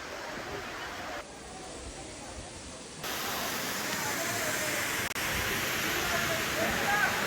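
Kalmandavi waterfall near Jawhar in summer gives a steady, broad rushing roar of falling water that grows a little louder after a few seconds, with faint voices in the background.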